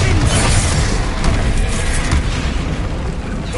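A Bombarda blasting spell in Hogwarts Legacy on PS5 detonates in a loud, sustained booming roar, thick low-end rumble and crackling debris filling the moment without pause.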